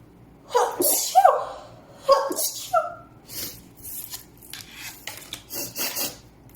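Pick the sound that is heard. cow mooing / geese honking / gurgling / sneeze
sneeze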